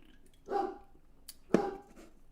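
Two short, sharp dog barks about a second apart, moderately loud and close, with quiet in between.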